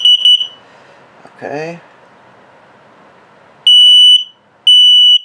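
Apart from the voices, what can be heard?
RV smoke detector alarm sounding during test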